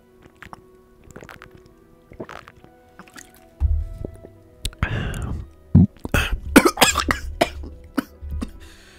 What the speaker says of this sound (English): Choked on some water.